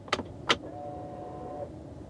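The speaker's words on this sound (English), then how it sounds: "That's the sound of my handbrake releasing." Kia e-Niro electric handbrake releasing: two sharp clicks close by, then a short steady motor whine lasting about a second, with no voices.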